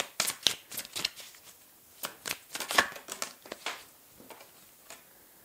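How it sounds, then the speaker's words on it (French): Tarot cards are slid and flicked from a deck, a quick series of close papery snaps and rustles in short bursts, fairly quiet with no talking. "Donc, je prends une autre carte."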